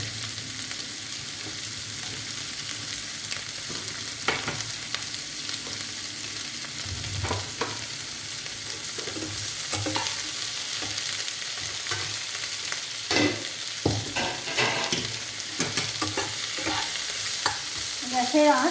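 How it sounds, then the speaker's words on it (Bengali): Onions frying in a pan with a pinch of salt over medium heat, a continuous close sizzle broken by repeated scraping and stirring strokes throughout. "পেঁয়াজটা ভাজার সময় একটু নুন দিয়ে দেবো"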